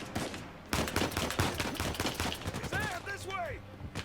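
Gunfire in the Uncharted 4 video game: a rapid run of sharp shots crackling through the first half, then quieter game sounds with sweeping electronic chirps.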